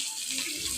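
Water pours into a cooking pan holding neem leaves and slit green chillies, a steady close splashing rush that runs without a break through the short moment.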